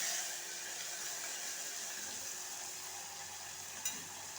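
Tomatoes being stirred into a meal maker (soya chunk) curry in a pan, giving a steady, soft sizzling hiss throughout with faint stirring scrapes and one brief clink near the end.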